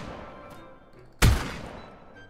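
A single sharp gunshot in a video game bursts out midway, close and loud, then trails off over faint background noise, with no talk.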